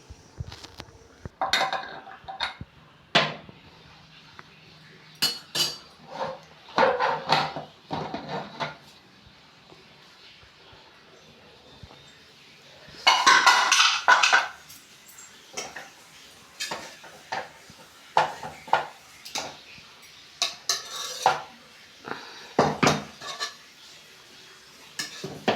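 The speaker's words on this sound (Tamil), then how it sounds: "இப்போது இந்த குக்கரை ஓப்பன் பண்ணி எப்படி பிரிஞ்சி சாதம் ரெடியாக இருக்குன்னு பார்க்கலாமா?" Pots clank and a pressure cooker of brinji rice is opened, with scattered metallic knocks, clinks and a brief hissing burst midway, close and intermittent.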